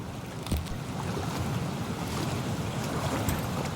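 A body splashes into cold water in the video game Cyberpunk 2077, with one sharp splash early on followed by a steady, dense rush of water and wind-like noise.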